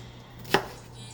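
A knife makes one crisp, brief cut as it thinly slices food on a board, close up, with a faint steady hum underneath and no talking.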